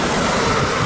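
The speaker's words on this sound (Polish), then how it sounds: "Jedzie kolejny tramwaj." Tram rumbling past a cyclist on a city street in Sosnowiec, Poland, a brief steady broadband rush of wheels and rail noise at moderate level, with no voices.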